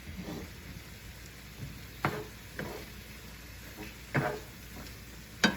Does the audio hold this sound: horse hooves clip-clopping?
no